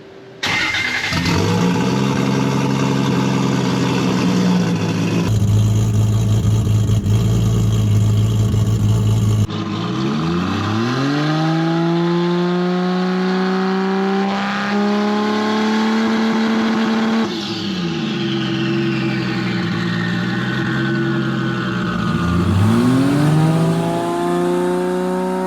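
A 1000HP 2JZ-powered Holden Commodore revs hard and launches from a driveway, loud close engine roaring and climbing through several rev sweeps with sharp drops between pulls, no talking.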